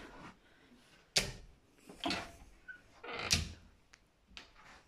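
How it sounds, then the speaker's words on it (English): Cupboard doors are shut indoors during household cleaning, giving several separate thuds and bumps of wood a second or so apart at close range, with light handling noise between them. "Let's shut the doors."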